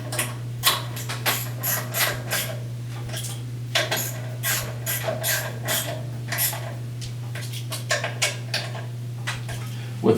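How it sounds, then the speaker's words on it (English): Fasteners are tightened on the ignition coil of a Honda small engine, pressed against the flywheel, giving a string of close, light metallic clicks, taps and ratcheting scrapes over a steady low hum, with no talking. "Now I'll push the ignition coil firmly against the flywheel and tighten up the fasteners."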